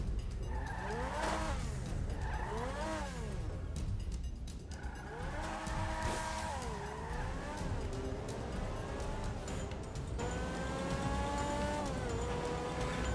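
A 2015 Lamborghini Aventador in a GTA 5 illegal drag race revs hard through repeated rising and falling gear changes. Tire squeal and skidding mix in, with the engine loud and continuous throughout.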